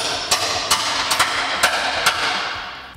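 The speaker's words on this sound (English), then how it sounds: "take my hammer, tap it in the rest of the way" A hammer taps a track bar bolt into its mount on a 2021-2023 Ford Bronco with a 7-inch lift, six sharp metallic knocks at a steady pace, close and clear.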